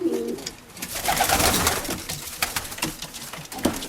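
Oriental Roller pigeons coo close by, a brother-sister pair among them, with soft rolling coos repeating over a busy background of wingbeats and scuffling in the loft.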